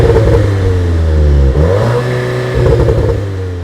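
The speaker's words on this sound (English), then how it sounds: "From the moment the engine is cranked, it's capable of being all go." A CUPRA Leon hatchback's 2-litre turbocharged four-cylinder engine, paired with a 7-speed dual-clutch DSG gearbox, revs loudly and close by, climbing in pitch, dipping, then rising again in sweeping surges.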